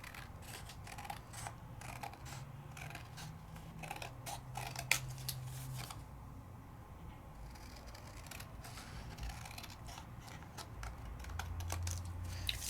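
Paper being trimmed with a cutter during a die-cutting card craft session, heard as a run of quick, close ticking and slicing clicks scattered through the clip over low background hum.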